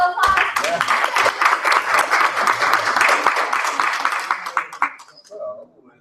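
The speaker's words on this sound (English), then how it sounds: "Big round of applause." An audience at a tech conference welcomes a presenter with loud, dense applause and some cheering that runs for several seconds before fading into a few scattered claps.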